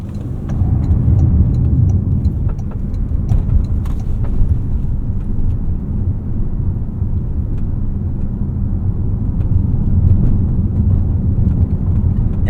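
A 2026 Toyota RAV4 GR Sport takes a corner, heard from inside the cabin as a steady, loud, low road and engine rumble with no talking.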